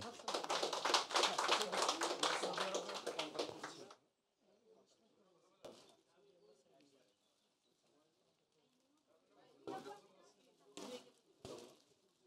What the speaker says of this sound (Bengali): তাদের জন্য আমরা সবাই করতালি দিব